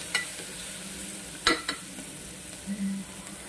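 Khichdi ingredients fry in a pan with a steady low sizzle, while a spoon stirs them in a few brief scraping clinks close by.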